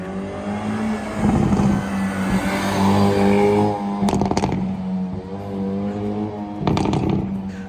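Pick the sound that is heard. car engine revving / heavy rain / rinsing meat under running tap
car engine revving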